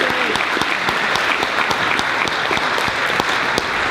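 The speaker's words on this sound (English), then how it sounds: "give a big round of applause to our MCs, Paddy and Morgan." A school assembly audience gives a big round of applause, loud, dense clapping that holds steady throughout without a break.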